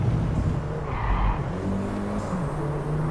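An Audi A1 Quattro in the Driveclub racing game drives with a steady engine hum and brief tire squeal and skidding, moderately loud and without talk.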